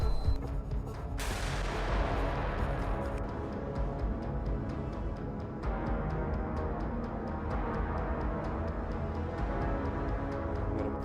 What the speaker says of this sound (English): Tanks move first to open the way to the enemy positions. They fire and clear paths through the forest.